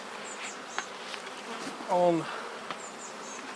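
Honeybees buzzing around an open hive during a health inspection, a soft scattered hum with one louder bee passing close by, and a brief spoken word near the start.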